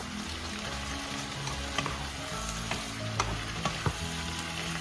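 Beef sautéing in fish sauce and soy sauce for beef pares gives a steady close sizzle, with a few sharp clicks and scrapes of stirring near the end.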